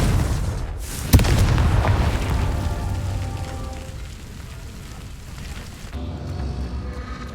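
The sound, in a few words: Confringo fire blast spell exploding in the video game Hogwarts Legacy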